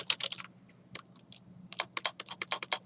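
Keystrokes on a computer keyboard at a church media computer, a quick burst of close, crisp clicks, a short pause with a few scattered taps, then another rapid run of typing, alone over a low steady hum.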